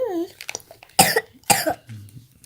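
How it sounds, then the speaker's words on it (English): A young boy coughs in two sharp bursts indoors, with a voice talking briefly before and after. "Why are you coughing, boy?"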